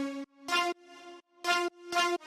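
A three-layer synth lead plays a bright, harmonically rich melody in sustained notes with short gaps, loud and alone with no talk.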